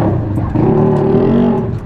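A loud motorcycle engine revs close by, its droning pitch rising and holding for a moment before easing off.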